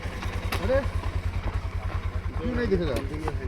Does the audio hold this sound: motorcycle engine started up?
yes